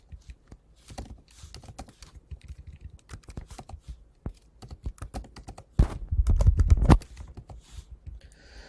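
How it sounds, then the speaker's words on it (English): Rapid key taps from data tables being entered into a graphing calculator, an irregular run of sharp clicks close by, with a louder burst of handling noise partway through. "Lots of typing tables."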